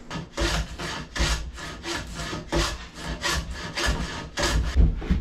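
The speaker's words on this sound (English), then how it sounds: "what I need to do first is just bevel the edges a bit so that they can sit against the cabin sides" A wooden board, mahogany aboard a wooden boat, gets its edges bevelled with a hand tool: rhythmic, close rasping strokes, about a dozen back-and-forth passes, loud and steady with no talking.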